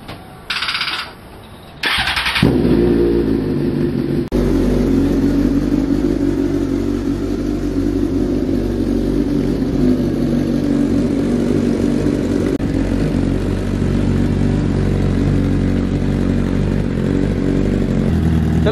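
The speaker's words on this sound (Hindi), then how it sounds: "चलो वार्म अप कर लो बाइक" Suzuki GSX-R1000 motorcycle engine starting after a couple of short cranks, then settling into a loud, steady, rumbling idle close by, with no talk over it.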